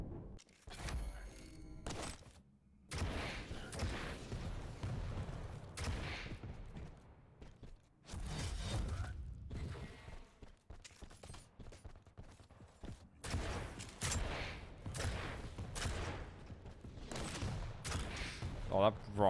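A Quake match, in which rocket launcher fire and explosions burst repeatedly amid fast game mechanics. Loud blasts come in irregular clusters, and commentary runs over much of the action.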